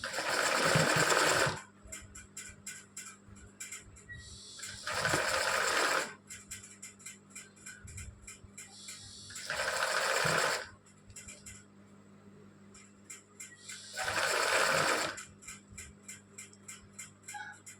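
A sewing machine stitching an embroidery design in woolen thread, running in four loud bursts of rapid needle chatter separated by quieter pauses with faint ticking.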